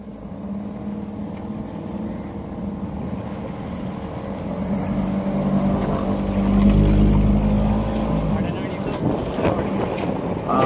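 A small boat's engine runs steadily with a low rumbling drone as the vessel moves over waves where sea and river meet, growing louder midway, with wind buffeting the microphone.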